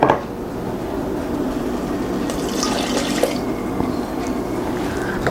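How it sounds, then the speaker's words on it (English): Soy sauce and vegetable broth pour into a pot of simmering mushroom soup, a steady, close gurgling splash of liquid that runs evenly throughout with no talking. "So now I'm going to add my soy sauce and my vegetable broth and let this continue to simmer."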